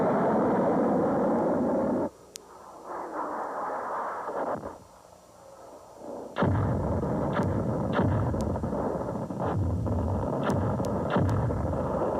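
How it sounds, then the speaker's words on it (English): An Army TACMS missile launches from an MLRS rocket launcher: a loud roaring blast cuts off sharply, a quieter rumble follows, then a second long, powerful roar with sharp cracks. "The new Army TACMS has greater range and a greater payload."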